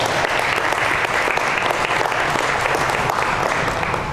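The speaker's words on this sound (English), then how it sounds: "let's give the partners a big round of applause as well" Audience at a district STEM expo breaks into loud, sustained applause, a dense wash of many hands clapping evenly at full strength for several seconds with no pause.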